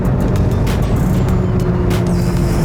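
A Volkswagen Golf 7R tuned to Stage 2 accelerates hard, its engine a loud, sustained roar heard from inside the car with rising tones and steady rumble throughout.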